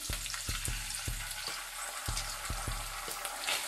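Tomato puree fries with curry leaves and chillies for a chicken gravy, a dense, loud sizzle over a steady rhythm of dull spoon thumps against the pan.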